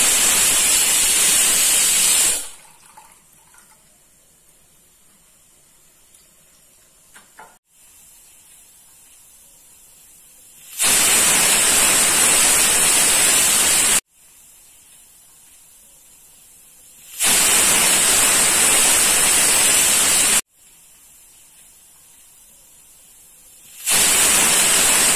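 A pressure cooker on a stove blasts loud, steady hissing steam whistles in several long bursts, each lasting a few seconds, separated by quieter pauses with faint kitchen noise, while mochai payaru kara kulambu cooks.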